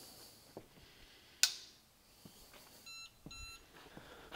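A Snap-on torque tester powering up gives a short sharp beep followed by a pair of quick electronic tones, faint clicks and handling noise around them in a quiet room.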